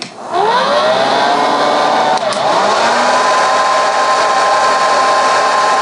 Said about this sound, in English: The hairdryer on low knocks the voltage down so far.